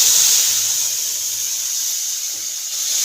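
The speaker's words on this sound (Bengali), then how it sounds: "ডালের এই বাগারের শব্দটা না হলে মনেই হয় না ডালটা বাগার দিলাম" Hot tempering (baghar) of cumin and spices sizzling as it meets lentil dal in a pan, a steady loud hiss sustained throughout with no talking.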